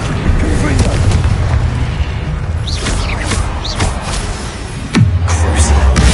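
Confringo explosive spells go off in Hogwarts Legacy as loud booming blasts over a dense rumbling bed of game effects, one heavy thump landing near the end.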